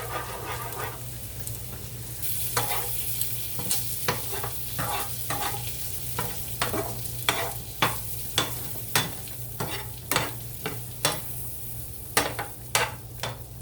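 Shrimp frying in a pan for fettuccine Alfredo, a steady close sizzle under a stove hum, punctuated by regular scraping taps of a utensil stirring them.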